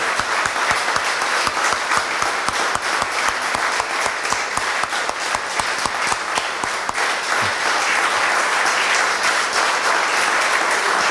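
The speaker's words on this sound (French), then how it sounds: "Nous allons les acclamer" A church congregation claps for its worship group, a loud, dense, steady wash of applause with no talk over it.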